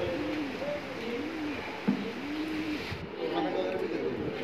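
Ambalsare pigeons coo in a loft, giving a few soft, repeated rolling coos at moderate distance over a low background hum.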